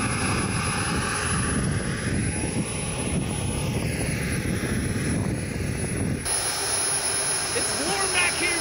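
An HSD Super Viper RC jet's turbine engine runs loud and close, a continuous high whine over a broad roaring rush that shifts in tone near the end.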